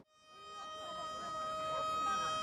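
A warning siren sounds before the Yeongdo Bridge lifting event in Busan, a steady sustained wail that builds slowly in loudness over a faint background.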